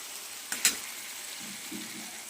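Red amaranth greens with peanuts and potato stir-fried in a pan: a steady low sizzle throughout, with a couple of sharp spatula scrapes near the middle and softer stirring scuffs toward the end.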